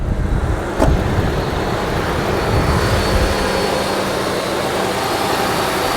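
A salvage-auction car idles steadily with a broad, constant engine rumble and hiss, loud and close, unchanging throughout with no voices.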